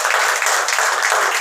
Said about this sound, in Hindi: खड़े जोरदार तालियां हो जाए।